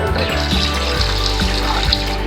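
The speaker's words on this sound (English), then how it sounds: "and we run some water" Tap water runs steadily into a kitchen sink while raw chicken is washed before making Jamaican curry chicken, a continuous close splashing flow with no talk over it.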